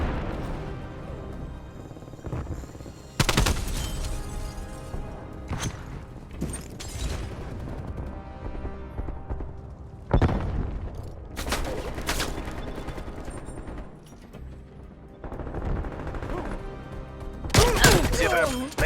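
A video game napalm strike and firefight play out as bursts of explosions and rapid gunfire, loud crashes recurring every few seconds over continuous mechanical battle noise, with voices talking in between.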